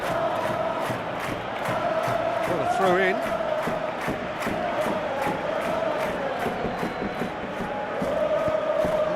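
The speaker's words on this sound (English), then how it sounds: "you can feel and hear how the crowd are reacting to all of this" A stadium crowd in the eFootball video game roars and murmurs steadily throughout, a broad continuous wash of noise with a commentator speaking briefly over it.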